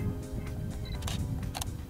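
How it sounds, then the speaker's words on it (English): A Canon EOS 650D (Rebel T4i) DSLR fires its shutter for a still, giving a couple of sharp mechanical clicks close by over a steady low hum. "I can press the shutter release to take a still"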